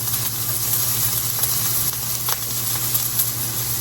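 Steak sizzles in a Cooklife 12-inch cast iron skillet, a steady close crackling hiss with small pops, alone without voices.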